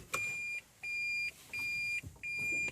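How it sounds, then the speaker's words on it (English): A 2014 Toyota Prius sounds its reverse warning after the engine shuts off: four evenly spaced, sustained electronic beeps, clear and close inside a quiet cabin. "Oh, it just stays beeping."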